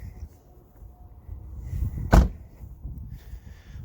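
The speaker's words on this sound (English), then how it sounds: "just like you hear that door close" A single solid thump of a Ford Mustang S550 car door shutting, close by, over quiet low background rumble.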